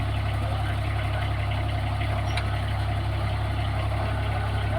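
A vehicle engine idles steadily at close range, a constant low rumble with no change in pitch throughout.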